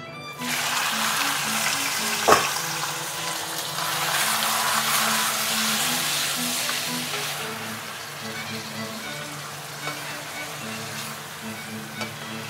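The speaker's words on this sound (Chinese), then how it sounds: "我们现在可以把控好水的鸡放进来炒" Pieces of old rooster hitting a wok of dark caramelized sugar and being stir-fried for big plate chicken, a continuous close sizzle with a sharp clatter early on and a faint tonal hum underneath.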